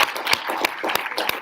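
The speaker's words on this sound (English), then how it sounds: "Can we give plumbing a round of applause?" An audience applauds plumbing graduates at a senior celebration ceremony, a brief patter of scattered, moderately loud claps with a few sharper individual hits standing out.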